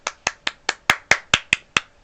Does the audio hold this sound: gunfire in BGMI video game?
no